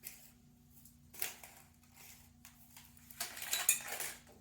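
A metal measuring spoon scrapes and clinks against a bowl as caraway seeds for rye bread dough are scooped and tipped into a flour mixture, close, in a couple of short bursts without talk.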